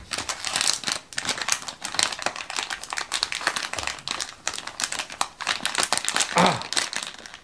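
Blind box packaging for a Pixar alien keychain is torn open up close, with dense, continuous crinkling and crackling of plastic and paper in rapid, uneven bursts, and no talk.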